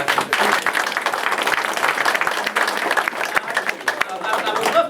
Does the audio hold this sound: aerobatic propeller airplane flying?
no